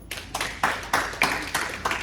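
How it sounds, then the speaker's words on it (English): A small audience claps in scattered bursts, roughly six distinct rounds of hand claps in quick succession at close range. "Clap it up"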